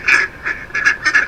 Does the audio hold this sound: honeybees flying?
no